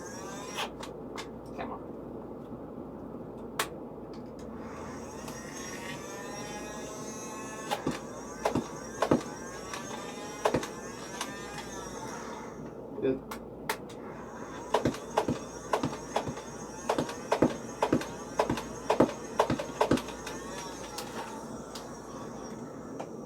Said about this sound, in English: I might as well do a mag dump, one-handed